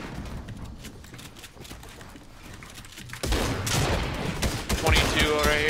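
Gunfire in a Fortnite match, with scattered shots early on and then a louder, denser flurry of rapid fire, while a voice can be heard faintly beneath it.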